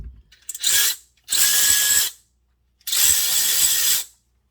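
Ryobi HP cordless ratchet driven in short bursts, one direction then the other: three loud whirring, buzzing runs of about a second each separated by silence, with a faint click at the start.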